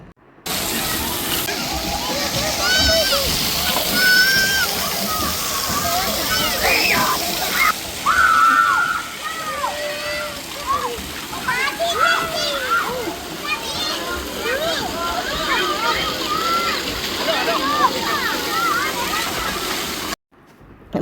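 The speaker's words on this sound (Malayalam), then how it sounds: "അതിൻ്റെ സൈഡിൽ നിന്നൊക്കെ ഇങ്ങനെ വെള്ളം വീഴുന്നുണ്ട്" Water pouring down from the sides of a play structure at a free outdoor water park in Dubai, a steady close splashing rush running throughout, with children and adults talking and calling over it.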